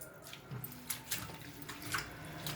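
Chana saag greens being washed in water, with steady splashing and running-tap-like pouring at close range, some brief clatters, no voices.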